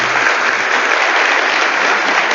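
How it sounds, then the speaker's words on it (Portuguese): Church congregation applauding at a celebration service, a dense, steady wash of clapping from many hands that holds at even loudness throughout, with no voices over it. "dá uma salva de palmas para a Célia"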